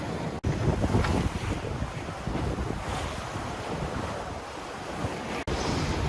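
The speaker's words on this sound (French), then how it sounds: "Ambiance de navigation nocturne." Steady broadband rush of waves and wind against a Pogo 30 sailboat racing across the Atlantic at night under moonlight, continuous and close with wind buffeting the microphone, two brief dropouts, no voices.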